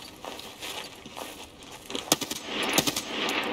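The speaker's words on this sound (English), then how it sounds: "I shot him" Rapid bursts of gunfire in Escape From Tarkov on the Shoreline map, sporadic quiet shots early, then a dense close volley of sharp cracks toward the end.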